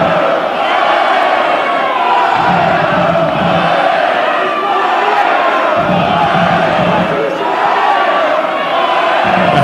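Away supporters of Bayern Munich cheering and chanting in a packed stadium during a Bundesliga match at Hoffenheim. The crowd roar is loud and sustained, swelling in waves, with no commentary over it.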